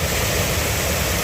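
Hassen Creek waterfall running strongly after rain, a loud, dense, continuous rush of falling water close by with no other sounds.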